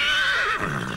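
A horse whinnies loudly and close at a horse racing event with thoroughbred racehorses, a single long neigh with a falling tail and no talk.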